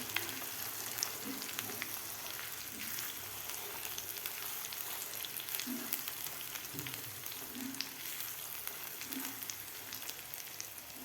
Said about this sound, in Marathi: आपल्याला हे वाटण तेलामध्ये परतून घ्यायचं आहे